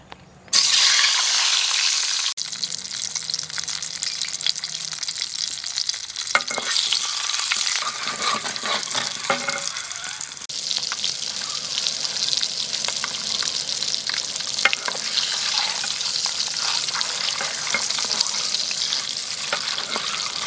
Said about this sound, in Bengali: ডিম দুটো দিয়ে দেবো তেল গরম হয়ে গেছে